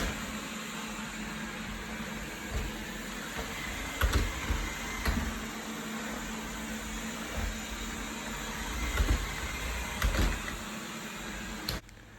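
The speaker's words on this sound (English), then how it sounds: "the Wyze Vacuum is actually pretty loud compared to some of the vacuum I've tried" Wyze lidar robot vacuum running on a tile and wood floor, a steady loud whirring motor hum with occasional soft bumps and clicks throughout.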